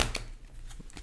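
Tarot cards riffle and slap together in a brief, quiet shuffle, a couple of soft papery bursts close by.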